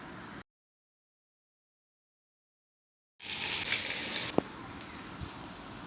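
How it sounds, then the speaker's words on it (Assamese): Fish fries in a pan over a wood fire; after a stretch of near silence, a bright sizzle surges up for about a second, then settles into a softer crackle and hiss with a couple of sharp pops. "খৰি জুইতে মাছ ফ্ৰাই কৰোঁতেতো টাইম লাগে"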